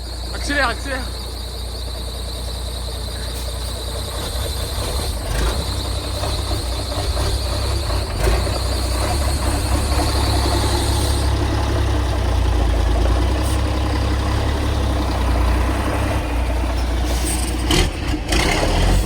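Car engine revving hard and holding a loud, sustained roar during acceleration after a brake pad change, with a squealing edge over a heavy low rumble and a voice speaking over it.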